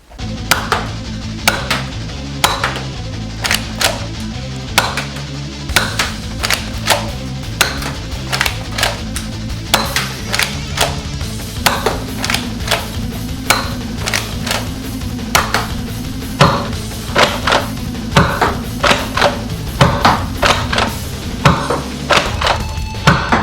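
An Adventure Force Super Drum pump-action shotgun blaster is worked and fired over and over, producing a long run of loud, close plastic clacks and thunks in a quick, fairly steady rhythm.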